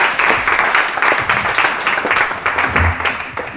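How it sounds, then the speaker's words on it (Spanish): An audience applauds a forensic doctor as she is welcomed to speak, steady, dense clapping filling the room for several seconds without letup. "Así que vamos a darle un aplauso a la doctora Mónica Casillas García y vamos a ello."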